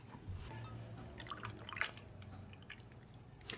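Milk pours into a blender jar for a blueberry smoothie with quiet dripping and splashing, faint and close, with no voices.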